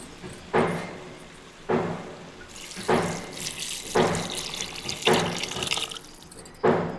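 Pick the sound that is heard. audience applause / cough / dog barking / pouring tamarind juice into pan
pouring tamarind juice into pan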